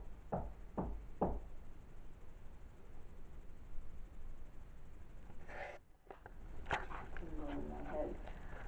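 Three sharp knocks on a surface inside an old house, close and distinct, followed by a long stretch of quiet room tone with faint movement and a brief shuffle near the end.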